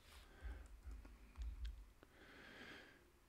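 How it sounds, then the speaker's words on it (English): Soft clattering keystrokes in uneven bursts, fairly quiet with a low background rumble, no one talking. "I was typing the wrong stuff"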